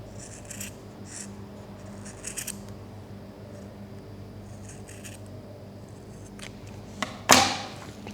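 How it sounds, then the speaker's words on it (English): Quiet, intermittent scissor snips and rustles of coarse felt, a few short cuts spaced out, ending with a louder crisp snip up close. "This felt's quite coarse, so it's quite tricky to cut."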